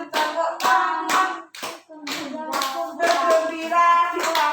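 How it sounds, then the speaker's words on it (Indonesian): Children clap their hands along to a sung Indonesian action song in a classroom, sharp repeated claps falling in rhythmic groups beneath the loud singing voices. "Kalau kau suka hati, marilah tepuk tangan, tepuk tangan."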